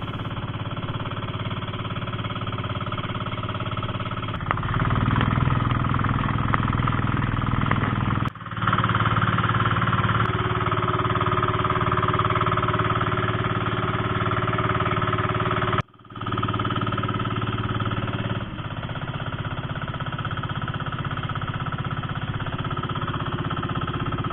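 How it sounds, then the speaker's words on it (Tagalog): A small wooden motor boat's engine runs steadily at the sea shore in Bolinao, Pangasinan, with a loud, chugging mid-pitched drone throughout, briefly cutting out for a moment before picking up again. "hindi ko muna ibu-voice over para marinig nyo naman ang tunog ng bangka"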